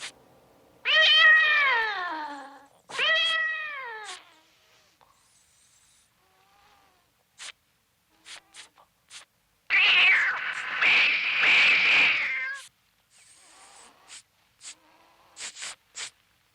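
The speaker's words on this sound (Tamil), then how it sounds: "இது பூனையோட வேலையா?" A cat in a film fight scene lets out two loud, drawn-out meows close by, followed by quiet scattered clicks and a long burst of hissing, rustling noise, with no one speaking.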